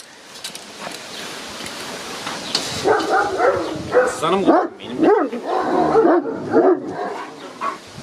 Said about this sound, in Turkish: Köpek.